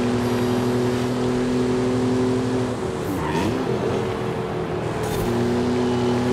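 A Ford F150 Raptor engine roars at sustained high revs in Forza Horizon 5, loud and continuous, with a brief dip and pitch swing as it shifts or lifts before climbing again.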